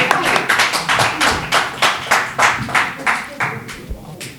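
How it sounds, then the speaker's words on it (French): Audience applause at a press conference: a small group claps in a quick, uneven patter that builds and then thins out near the end, close and moderately loud. "Applaudissez"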